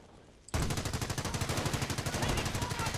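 Rapid sustained machine gun fire from an MG crew in the Company of Heroes video game, a loud even rattle of bursts starting abruptly after a brief quiet moment and continuing without pause.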